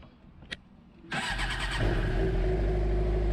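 A Suzuki GSX-R motorcycle fitted with a quick shifter, clutch held, starts after a short click: the starter whirs, the engine catches, and it settles into a loud steady idle close by.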